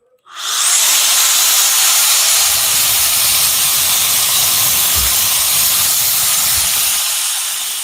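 A Gama Sfera hair dryer switches on and blows steadily on its slow setting, a loud, close, broad airy whoosh that holds evenly for several seconds before easing slightly at the end.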